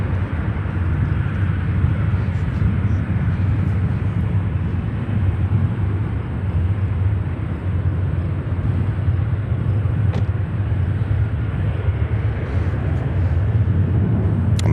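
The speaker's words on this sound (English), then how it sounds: "We see here the United 737-900 in Continental, in the old Continental livery" United Boeing 737-900 in old Continental livery at Chicago O'Hare, a steady distant jet rumble and roar holding level for the whole stretch, with a few faint clicks.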